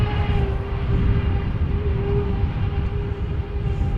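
A KLM Boeing 777, flight 622 from Atlanta, arrives at Amsterdam Schiphol Airport, its jet engines a loud, steady roar with a faint whining tone running through it.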